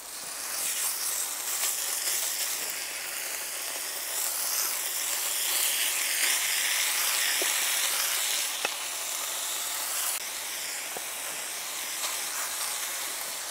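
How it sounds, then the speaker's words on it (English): Beef steadily hissing and sizzling on a hot grill, a loud bright frying spray with scattered pops and crackles, no voices. "It is ready to put the beef on the grill too"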